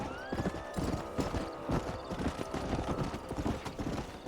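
Steady clip-clop of horse hooves trotting close by in Red Dead Redemption on Xbox, with a horse whinnying briefly near the start and busy background noise throughout.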